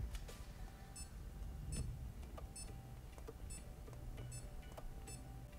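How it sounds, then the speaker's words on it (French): Short electronic key-press beeps from a Garmin Tactix/Fenix watch repeat at a regular pace, sharp and fairly quiet over a low background hum. "on peut activer un bip à chaque fois qu'on appuie sur une touche"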